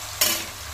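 Fish heads drop into hot oil in a pan for a cabbage and fish head dish, a brief sharp burst of sizzling that settles into a steady frying hiss.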